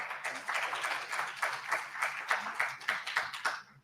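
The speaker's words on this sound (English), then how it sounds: "let's give a round of applause for her" Audience at a law and education youth forum gives a brief round of clapping, fairly quiet and uneven with individual claps audible, tapering off after a few seconds.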